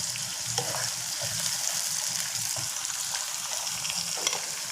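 Green chillies sizzle and crackle in hot oil in a pan, with garlic already frying, a steady close hiss broken by occasional stirring clatter.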